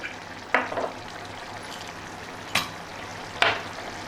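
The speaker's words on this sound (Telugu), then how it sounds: "పెప్పర్ ఒక స్పూన్ వేసాను ఇప్పుడు లైట్గా రోస్ట్ చేసుకున్నాను" Black pepper and whole spices dry-roasting in a small pan for a Telangana-style pepper mutton masala, with a faint low crackle broken by three sharp scraping stirs spaced about a second or two apart, close up and without talk.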